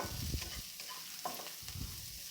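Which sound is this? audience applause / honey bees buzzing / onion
onion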